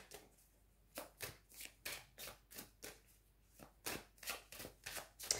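Oracle cards shuffled by hand in a quiet room: soft, rhythmic riffling slaps repeat at a steady pace, close and fairly faint.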